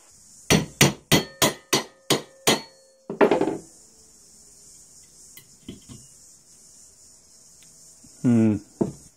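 A hammer strikes metal seven times in a steady rhythm while knocking something off an arc weld, followed by a clattering scrape, a few faint knocks, and a short grinding burst near the end.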